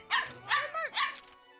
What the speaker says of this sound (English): I hope you enjoy the sound of small dog.